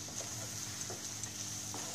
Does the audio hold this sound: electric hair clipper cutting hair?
no